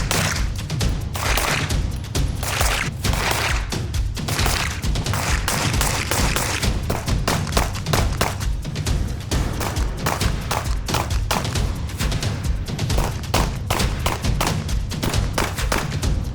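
Rapid, overlapping pistol shots ring out at an outdoor shooting range from Walther PDP steel frame handguns with 4.5- and 5-inch slides, a dense, loud, nearly continuous barrage of sharp cracks with no talk.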